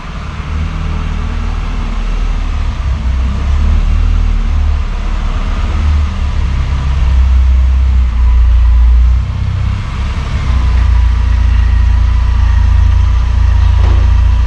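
A classic car named Violet idles and rolls into a new workshop, its engine giving a loud, steady low rumble close by that swells slightly partway through, with no voices.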